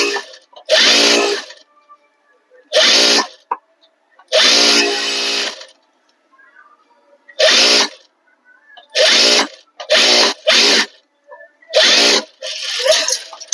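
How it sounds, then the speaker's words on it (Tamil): Sewing machine stitching a blouse back neck design, loud bursts of rapid whirring stitches separated by short pauses, alone without talk. "தைக்கையில நீங்க இழுக்காம தூக்காம நீட்டா தைங்க"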